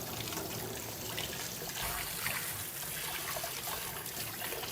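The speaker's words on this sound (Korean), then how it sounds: "먼저 토마토 씻을게요." Tomatoes are rinsed under a running kitchen tap, with a steady rush of water that shifts slightly as the fruit is turned in the stream.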